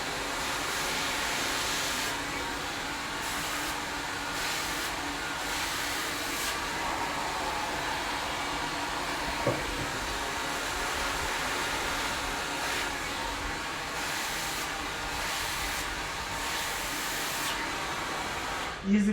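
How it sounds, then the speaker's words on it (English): A hair dryer blows hair with a steady, loud whooshing drone that lasts throughout and shifts slightly in pitch and strength as it moves. "I start to blow dry towards the root and then bring it down"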